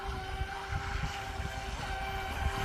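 A Proboat Recoil RC boat runs steadily on the water at half throttle, its small electric motor giving a constant high whine with faint wind and water wash underneath, and no voices.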